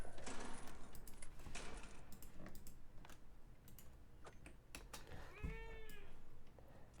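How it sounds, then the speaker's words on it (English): A pet cat meows with rising, wavering calls near the end, heard close by over steady background noise and light clicking from a computer keyboard. "Cat wants its attention."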